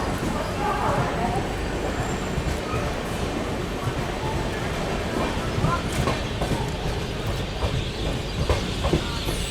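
Falaknuma Express superfast train from Secunderabad to Howrah rolling along, with a steady dense rumble and faint clickety-clack of carriages throughout, close and continuous, with occasional background voices.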